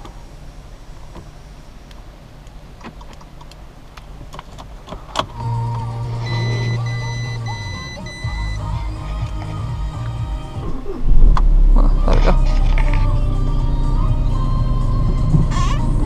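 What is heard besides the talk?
Audi A3 engine cranking and starting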